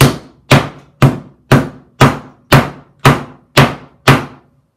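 A hammer pounds a wooden bowtie inlay into a glued woodworking joint, nine sharp evenly spaced strikes about half a second apart, each a loud close thunk that decays quickly, with no talk.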